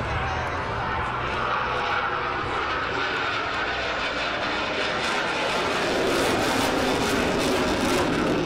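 A Navy F-18C Hornet roars through an airshow demonstration in California, its jet engines a loud, sustained broadband rumble that holds steady and swells slightly louder toward the end of the pass.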